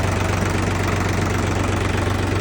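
A Solis 50 RX tractor, a 50-horsepower unit, idles steadily close by with an even low mechanical throb and no talking.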